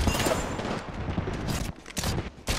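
Gunfire in the Apex Legends video game, with dense rapid shots and several louder bursts crackling through the scene, near and intense.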